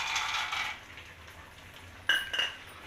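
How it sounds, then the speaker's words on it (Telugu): Raw peanuts tip into a pan of lightly heated oil with a soft sizzling hiss, then a few sharp clinks and rattles as the nuts hit the metal, fairly close and with no talking. "ఇప్పుడు ఆయిల్ కొంచెం వేడైంది పల్లీలం వేయించుకోండి"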